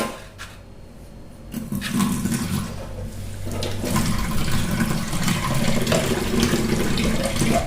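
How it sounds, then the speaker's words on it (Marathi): Water from a mixer jar is poured into puri dough for kneading in a home kitchen, a continuous splashing, gurgling pour that swells after a short quiet start and runs steadily to the end. "मिक्सरच्या भांड्यामध्ये मगाशी मसाला बारीक केलता त्यातच थोडंसं पाणी ओतून मी ह्याच्यात टाकून घेते"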